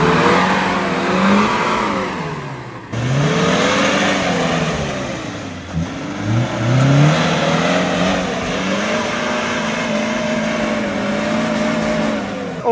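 A 4x4 open-differential off-roader revs hard while struggling through deep mud, its engine climbing and falling in loud, sustained surges with a brief dip partway through, heard close up and without speech.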